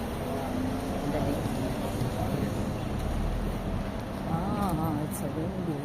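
Steady outdoor wind noise buffets the microphone during a walk, a continuous broadband rush that stays close and loud throughout, with muffled voices underneath.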